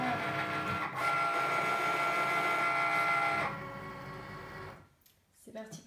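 A Cricut cutting machine works with a steady mechanical whir and motor hum for a few seconds, then winds down and stops, with brief faint clicks and movement noises afterward.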